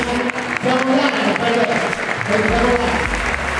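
An audience applauds a football club's directors, parents and volunteers at a season presentation, a steady wash of clapping filling the space with voices mixed in.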